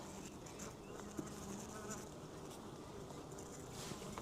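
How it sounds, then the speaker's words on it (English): Honey bees buzz in an open garden beehive, a soft, continuous droning hum with a few louder passes, no voices. "you want to look and see like how many bees are in here"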